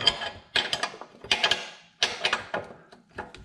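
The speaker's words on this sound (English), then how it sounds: "Let's go ahead and get this wrench" Ratcheting wrench clicking on a 19 mm bolt holding a Toyota Corolla's left-side control arm, with four close bursts of quick, rapid ratchet clicks separated by short pauses.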